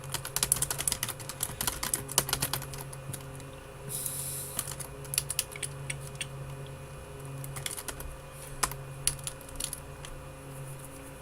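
A computer keyboard clatters in quick, uneven bursts of close keystrokes during a writing session, with brief pauses between runs and a faint steady hum underneath.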